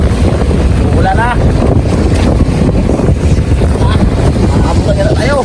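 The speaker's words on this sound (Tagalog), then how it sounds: "tayo ay naabutan na ng malakas na hangin at may kasama pang ulan" Strong wind and rain roar and buffet the microphone nonstop on a fishing boat on the Pacific Ocean, with rain mixed into the rushing noise and brief voices calling out underneath.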